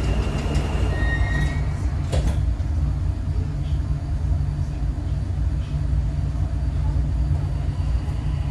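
A Dubai Metro train running toward UAE Exchange, a steady loud interior rumble of wheels and motors throughout with a brief high squeal near the start.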